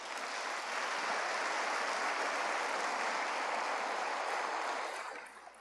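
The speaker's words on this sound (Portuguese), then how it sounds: "Aplauda o nome do Senhor por isso." Church congregation applauding during a sermon, a dense sustained wave of clapping that swells quickly, holds steady for several seconds and then begins to fade.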